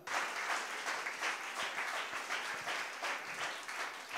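A church congregation breaks into sustained applause acclaiming God, a broad, even wash of many hands clapping at a moderate distance, holding steady throughout.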